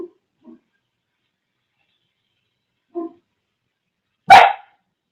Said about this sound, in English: What are you silly dogs barking at?